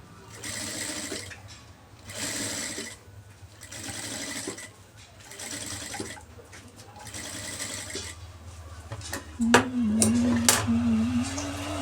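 A sewing machine stitching piping onto a blouse: bursts of rapid mechanical whirring that stop and start in a regular rhythm, moderately close, with a short high-pitched whine near the end and no speech.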